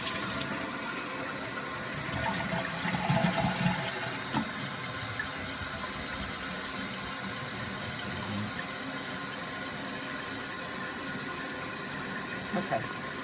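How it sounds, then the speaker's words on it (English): Toilet flushed after a new flapper was fitted, giving a steady rush of water and tank refill that runs under a voice from start to end. "Now we're gonna give it a flush to make sure our flapper works."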